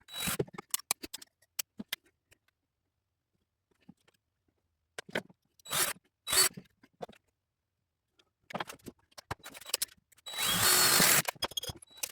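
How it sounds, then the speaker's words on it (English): A power drill bites into license plate metal in short, sharp bursts separated by quiet pauses, then one longer grinding run near the end. "drill through them, and then rivet them into the fender"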